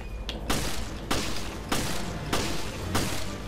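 Enemy gunfire in the Resident Evil: Revelations video game comes as a series of loud sharp shots at roughly half-second to one-second intervals, punching through a steady rumbling game background.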